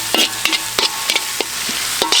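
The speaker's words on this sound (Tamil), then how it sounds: "வெங்காயம் நல்லா வதங்கட்டும்" Chopped small onions (shallots) frying in hot oil, with a spatula stirring and scraping the pan in repeated close strokes over a steady, loud sizzle.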